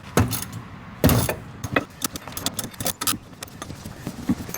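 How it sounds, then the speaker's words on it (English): An inner tie rod being broken loose with a tool in a garage: a string of sharp metallic clanks and ratcheting clicks, irregular and close, with a couple of louder impacts early on. "Now let's break it loose."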